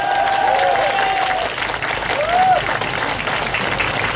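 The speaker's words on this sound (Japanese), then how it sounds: "じゃあ実行委員長の挨拶を、ヤマン大きな拍手でお迎えください。" Audience at an outdoor music festival applauds steadily and loudly for an organizing-committee chair, with faint voices calling out over the sustained clapping.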